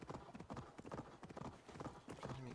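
Rhythmic clip-clop of a horse's hooves trotting in the video game Assassin's Creed Valhalla, steady and fairly quiet throughout, with a brief whinny-like tone toward the end.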